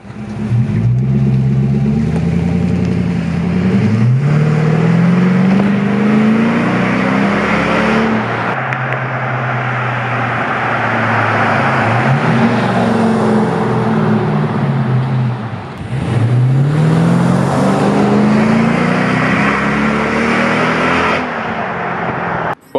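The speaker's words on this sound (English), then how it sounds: "try to go grab some acceleration clips so you can hear what it sounds like pulling away, as well as when it's driving by." A 5.7L HEMI V8 Jeep Grand Cherokee with open exhaust cutouts roars loudly through several hard acceleration pulls, its pitch climbing through the gears before passing by close, with no talking.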